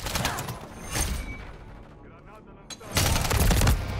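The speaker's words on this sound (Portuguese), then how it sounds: "eu atirei em algo que eu achei que era alguém" Gunfire in the video game Call of Duty Modern Warfare 3 multiplayer: rapid bursts of automatic shots, a quieter pause, then another loud sustained burst, with a player's voice talking over the action.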